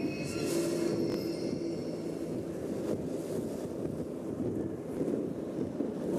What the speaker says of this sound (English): A little wind ain't bad. But this is horrible.